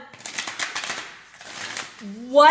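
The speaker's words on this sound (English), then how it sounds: "and he's shuffling his cards." A deck of cards is shuffled in two quick riffling bursts, crisp and close, with a voice speaking at the end.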